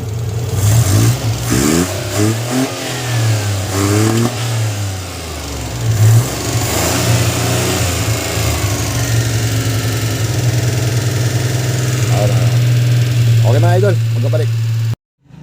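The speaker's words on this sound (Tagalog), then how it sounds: "palyado pa siya dahil dyan sa kanyang spark plug" A flood-damaged Suzuki Multicab engine runs rough and uneven, misfiring from a bad spark plug, its mid-pitched idle surging and dipping throughout while someone talks over it nearby, cutting off abruptly at the end.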